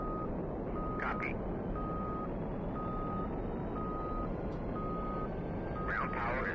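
An aircraft ground power unit in the game DCS World running with a steady loud rumbling drone, while a regular chain of short electronic beeps repeats above it.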